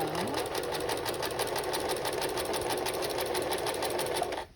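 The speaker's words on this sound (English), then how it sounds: "I'm gonna sew right over it and keep going." A sewing machine runs steadily at a fast, even stitching rhythm as it sews across the handles of a tote bag, close and continuous throughout.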